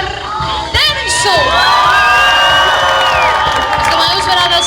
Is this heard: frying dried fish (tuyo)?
no